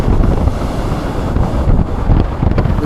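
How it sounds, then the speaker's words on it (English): Ocean waves break on a North Norfolk beach, a loud, close, churning wash of surf mixed with gusty wind buffeting the microphone and no talk over it. "Look at these waves, look."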